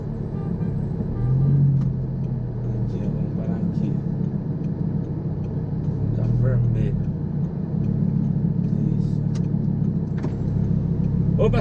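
An Audi R8 cruises slowly around a city block, its engine a steady low rumble that swells gently a couple of times, with faint voices in the cabin.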